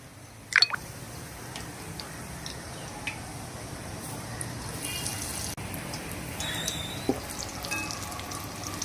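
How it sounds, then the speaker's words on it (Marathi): Batter-dipped vada for Mumbai vada pav dropped into hot oil, giving a steady low sizzle and frying crackle with a sharp splash-like burst near the start and a few light drips and pops after. "ह्या बॅटरमध्ये डिप करून आपल्याला ऑइलमध्ये सोडायचं आहे"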